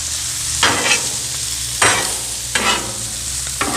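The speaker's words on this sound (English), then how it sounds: "we'll move around our carrots a little more" Carrots stirred around a hot pan as they brown, with four distinct bursts of scraping and crackling sizzle at a steady pace over a continuous low frying hiss, close and fairly loud.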